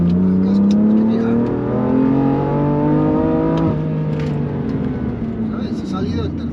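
A BMW M3 on a race circuit gives a loud, close, sustained engine drone that climbs steadily in pitch as it pulls hard through the gears, with a brief dip near the middle.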